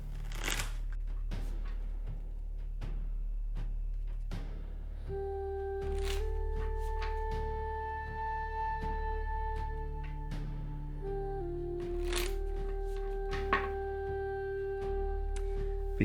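A rune card deck is shuffled repeatedly for several seconds, with crisp riffling and card flicks close by, alongside faint steady tones in the background and no talking.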